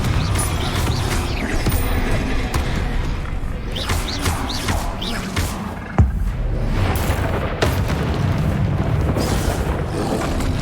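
Confringo explosion spells blast during a Hogwarts Legacy duel, with repeated booming impacts and crashes over a dense, loud clash of magic effects, with one sharp thump standing out midway.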